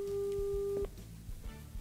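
A steady telephone busy tone sounds loud and clear on a call, then cuts off abruptly, leaving quiet line noise with faint clicks.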